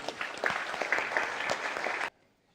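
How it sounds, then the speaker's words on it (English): An audience at a security conference claps for a few seconds to welcome a speaker, a dense, fairly close burst of applause that stops abruptly. "So round of applause for Mr. McIntosh."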